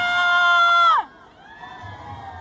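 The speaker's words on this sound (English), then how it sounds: "the crowd did start chanting Ariana" A live show crowd cheers and shouts loudly, a dense wall of voices with rising whoops, then cuts off abruptly and gives way to quieter room sound.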